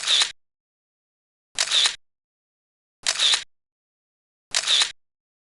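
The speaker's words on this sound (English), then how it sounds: "Let's take a selfie together." Four separate camera shutter clicks for a selfie, evenly spaced about a second and a half apart, each a crisp short snap with silence between.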